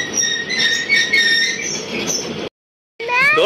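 Toy train ride at Aladin Park amusement park in Dhamrai, Bangladesh, rumbling loudly up close with high, shrill wheel squeals, then a sudden brief silence before the squealing returns.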